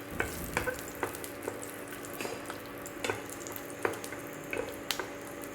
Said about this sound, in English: So we will start off by adding the garlic cloves and the tamarind.